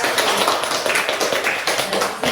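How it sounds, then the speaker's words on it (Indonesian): A classroom full of schoolchildren claps their hands in dense, steady applause, with many overlapping claps running loud and close throughout. "Tepuk tangan lagi untuk kita."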